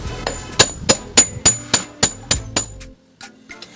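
Hammer strikes on a pipe pressing a ceiling fan coil into place: about nine sharp, evenly spaced metallic blows with ringing decay, then a short pause and a few softer taps, with no talking.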